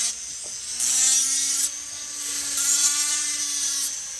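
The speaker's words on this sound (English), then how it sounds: "Everybody knows that these are Dremel sanding drums." Dremel rotary tool with a sanding drum chamfering the edge of a Stihl MS200T chainsaw cylinder, a high whine rising in two bursts of gritty grinding against metal, close and fairly loud, with quieter motor hum between passes.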